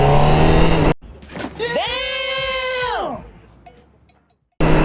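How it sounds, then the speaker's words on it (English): A Honda CBR1000RR-R Fireblade SP sportbike with an Akrapovic exhaust revs up, holds a high, loud wail for about a second, then drops back. A short exclamation comes just before, and loud sound frames the quiet stretch on both sides. "Man, it sounds so good once you open it up."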